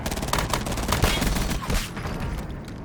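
Rapid automatic gunfire in a video game, a dense rattling burst of shots that runs loud for about two seconds before easing off.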